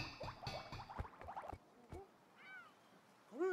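A kitten in a video game lets out a couple of short, faint meows near the end, after a run of quick buzzing and clicking game noises.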